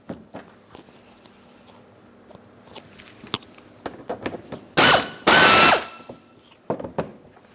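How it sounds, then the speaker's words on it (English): A small ratchet with a Phillips bit removing bumper cover screws on a 2008-2016 Chrysler Town & Country: scattered close clicks and taps, then two loud bursts of rapid ratcheting. "So I've got my Phillips head, small ratchet."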